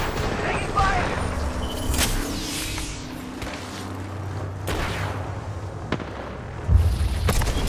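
Gunfire in Apex Legends: scattered loud shots, pops and booms crackle through dense game action, with a few sharper cracks near the end and a voice speaking in places.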